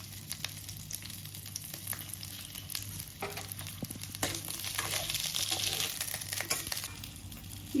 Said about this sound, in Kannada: ಇಟ್ಟು ಎಣ್ಣೆ ಹಾಕಿ ಹುರಿಯೋಣಂತ್ರಿ.